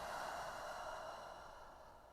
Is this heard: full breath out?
yes